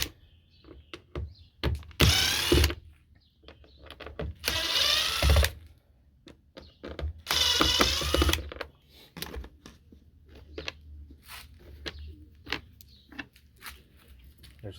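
A power screwdriver backs screws out of the bottom trim plate of a third-generation Toyota 4Runner in three close, loud whirring bursts, separated by quieter handling clicks and rustling.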